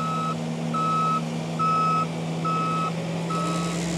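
A Bobcat T86 compact track loader reverses with its backup alarm sounding five evenly spaced, loud beeps over a steady low engine drone.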